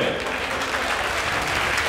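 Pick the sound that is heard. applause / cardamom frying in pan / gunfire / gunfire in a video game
applause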